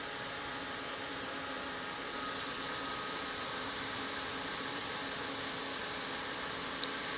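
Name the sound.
heat tool drying wet cardstock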